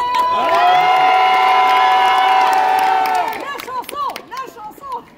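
A cosplay contest audience at a convention cheers loudly, with whoops and clapping over a held musical chord, then scattered shouts and bursts of applause as the chord stops.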